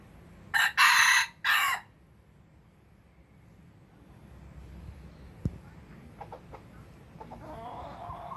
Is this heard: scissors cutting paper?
no